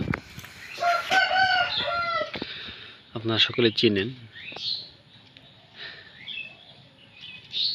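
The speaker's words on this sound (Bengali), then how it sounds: "তা আমার এই চিতা পাখিটা" A chita bird kept as a hunting decoy gives a short run of loud, rapid, pulsing calls partway through, after someone speaks close by. Further talk and fainter bird sounds follow.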